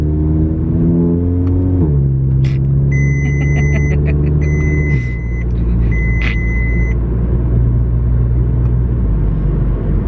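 A tuned car engine revs and accelerates loudly up close, its droning pitch climbing, briefly dropping as a gear changes near two seconds, then climbing again, with high whistling tones layered over the roar.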